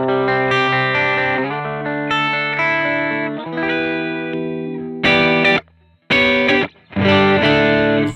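Electric guitar chords ring out through a ToneX signature light-drive tone, lightly overdriven and slightly gritty, sustained and loud, ending in a few choppy strummed stabs.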